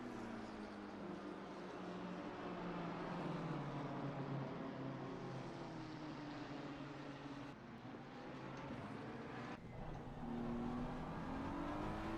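BMW race cars racing at Kyalami in a racing video game, a sustained engine drone with rising and falling revs as the cars pass, steady and fairly loud with no voices.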